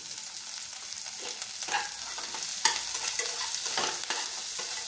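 Green chillies fry in a pan with a continuous close sizzling hiss, punctuated by stirring scrapes and occasional sharp crackles.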